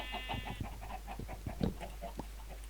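Minecraft chickens kept alongside cows cluck in a quick run of short, close, clipped calls, with no voices present.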